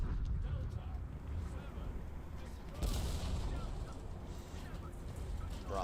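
Artillery fire in War Thunder during a tank battle: a dense, continuous rumble of distant booms and gunfire, with one stronger blast near the middle, over a steady low background.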